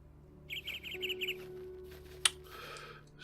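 A bird in the Minecraft Feed the Beast modpack gives a quick run of high chirps, then a sharp click and a few fainter tweets, all fairly close over a quiet game backdrop.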